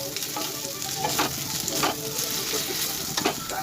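Whole cardamom, cloves, cinnamon and dried chillies fry in hot oil in a pan, a constant close sizzle broken by several soft stirring scrapes, no voices.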